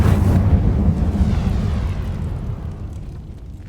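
The Incendio fire spell in Hogwarts Legacy erupts in a loud, close burst of roaring flame, then a dense crackling rumble that slowly fades away over a few seconds.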